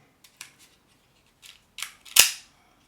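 A Benchmade Shootout OTF tanto knife fires, a few faint small clicks leading to a sharp, loud snapping crack as the blade deploys, close and alone.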